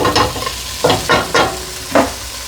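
Couscous ingredients stirred and mixed in a pan, with four distinct scraping strokes spaced across the moment, close and fairly loud over a light background hiss.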